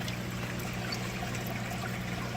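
Water trickles steadily through a slot in a small modular aquaponics fish tank on its way to a swirl filter, a soft continuous close flow with a low hum underneath.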